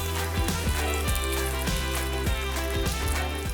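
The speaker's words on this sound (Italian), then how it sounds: "ci dedichiamo a piastrare i nostri dischi di midollo. La pentolina qui antiaderente è molto calda." Discs of bone marrow sear in a very hot nonstick pan for risotto alla milanese, a dense continuous sizzle under a steady tonal hum with periodic dips, loud and close, no talking.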